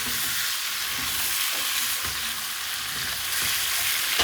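Cut, washed radish hits prawns already frying in a pan, giving a steady close sizzle with soft stirring scrapes throughout and no talking.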